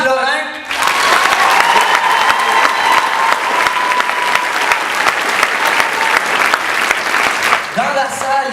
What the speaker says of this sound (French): j'aimerais qu'on donne une bonne main d'applaudissement à notre survivor